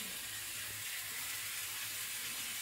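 Tomatoes and vegetables sauté in a hot pan, giving a steady, moderately quiet sizzle and hiss that carries on evenly from start to finish with no talking.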